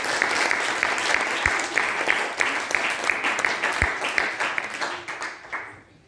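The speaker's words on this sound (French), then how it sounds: "allez, on les applaudit." An audience at a piano master class applauds loudly and steadily for several seconds, a dense wash of clapping that fades out at the end.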